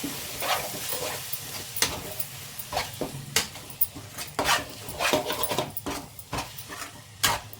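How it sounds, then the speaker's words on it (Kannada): A spoon stirs salt into fresh green pea rice bath in a pan, irregular scraping strokes against the metal over a faint sizzle, close by, with no voices. "ನೀಟಾಗಿ ಮಿಕ್ಸ್ ಮಾಡ್ಕೊಳ್ಳೋಣ"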